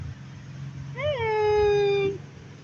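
A domestic cat gives one clear, drawn-out meow lasting about a second, close and fairly loud, with a low steady hum underneath.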